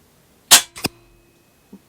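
A KRAL Puncher NP-01 air rifle fires with a single sharp, loud crack, followed a fraction of a second later by the smack of the pellet striking the target, then a faint small knock.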